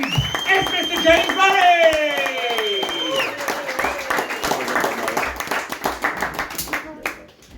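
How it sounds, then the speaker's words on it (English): A comedy club audience at Comedy Asylum claps and whoops to welcome comedian James Murray to the stage. A bright rising whoop or sweep rings out over dense, sustained applause that thins into scattered claps toward the end. "clap your hands, stomp your feet, whoop, cheer, and go wild and crazy"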